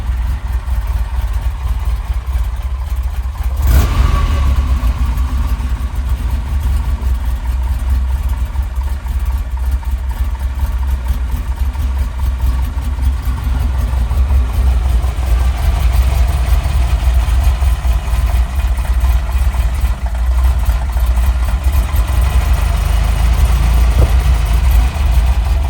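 A 1975 Ferrari 308 GT4 engine idles just after a cold start, a loud, steady low rumble with a brief sharp transient early on, running alone without talk.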